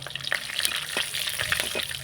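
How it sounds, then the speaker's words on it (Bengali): Nigella seeds and green chillies dropped into hot oil in a wok, crackling and sizzling steadily with sharp pops and light stirring scrapes, close and fairly loud. "এবারে আমি রান্নার জন্য দিয়ে দেবো কালো জিরে আর কাঁচা লঙ্কা ফোড়ন"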